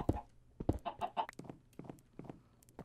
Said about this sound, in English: The feathers were white, so I am inclined to think it was some kind of a chicken.